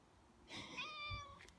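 A house cat meows once on a walk outdoors, a single drawn-out, clear meow of moderate loudness over quiet background with a faint soft sound just after.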